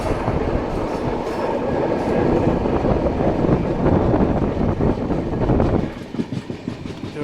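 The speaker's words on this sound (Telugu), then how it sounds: "ట్రైన్ చూడు పాము లెక్కనే పోతుంది." Goa to Secunderabad train 17040 rolling along rails near Dudhsagar Waterfalls, a loud, steady rumble with rhythmic wheel clatter that drops away abruptly near the end.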